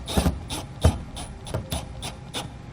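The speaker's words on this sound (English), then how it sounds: "We can take a screwdriver or a drill and very carefully" A screw is driven into a MaxxFan Deluxe 12V roof vent with a screwdriver or drill, heard as a close series of about eight rasping, scraping bursts in a steady rhythm.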